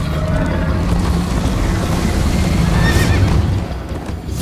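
A horse whinnies while being ridden in the video game Minecraft: Story Mode, the loud neigh ringing out over steady hoof clip-clop and rushing game noise.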